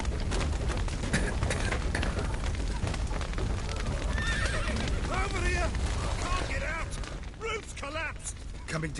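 Frightened horses neigh repeatedly inside a burning stable in The Witcher 3: Wild Hunt, shrill whinnies rising over crackling fire, creaking timber and hoof clatter, with a voice speaking over the scene.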